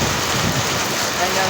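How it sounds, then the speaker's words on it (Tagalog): Heavy rain pours in a dense, constant hiss, loud and close with no pauses throughout. "Malakas ang ulan dito"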